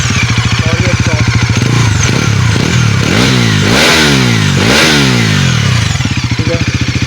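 Exhaust of a Bajaj Pulsar NS400Z motorcycle, idling loudly nearby before a series of sharp revs that climb and drop, the biggest bursts in the middle, then easing back to a thumping idle.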